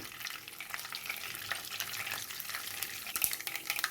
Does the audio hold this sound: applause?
no